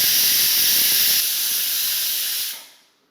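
A pressure cooker cooking rice releases steam in a loud, continuous bright hiss that holds steady for over two seconds, then fades away.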